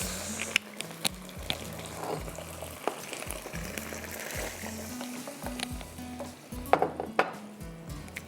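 Ground pomegranate seed, roasted crushed coriander and cumin sizzle loudly in a pan after a splash of water goes in for a Hunza-style leg roast, with a constant frying hiss and repeated clinks and scrapes of stirring.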